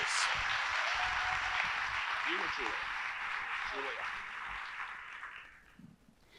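One more round of applause in an auditorium for union representatives and Cincinnati Public Schools employees at a back-to-school address: a dense, sustained wash of clapping that tapers off toward the end, with a brief spoken voice over it.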